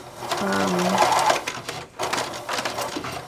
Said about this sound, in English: so we're sewing 1/2 inch seam allowance along the side